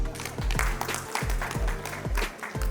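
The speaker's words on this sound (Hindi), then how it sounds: "एक बार तालियां बजा दीजिए प्लीज।" Audience applause at a women's award function while an honoree is called to the stage. Steady clapping runs beneath loud music that carries a deep, regular beat.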